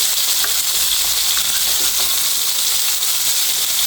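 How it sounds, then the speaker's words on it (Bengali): Fish frying in a pan: a loud, steady sizzling hiss that runs unbroken throughout, with no voices. "মাছটার একটা পাশ ভাজা হয়ে গেছে, এখন আমি উল্টে দিচ্ছি।"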